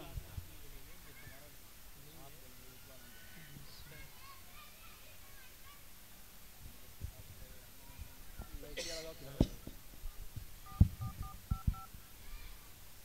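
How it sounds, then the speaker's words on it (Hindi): Telephone keypad tones sound faintly in a quiet room, with a few short beeps near the end, mixed with low background noise and occasional soft thumps. "अभी मैं उनको फ़ोन करके बुलाता हूँ।"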